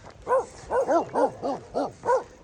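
Dogs on a hiking trail give a quick run of seven short, yippy barks, fairly close and evenly spaced, with nobody speaking.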